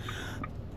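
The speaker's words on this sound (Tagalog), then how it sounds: "Dry cough." A single short dry cough bursts out near the end after a stretch of quiet room tone, close and fairly sharp.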